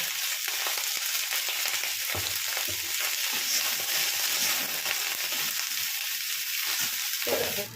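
Cauliflower fries in a pan with a little salt, sending up a loud, even sizzle throughout, broken by scraping stirs and light clinks of the spatula close by, with no voices over it.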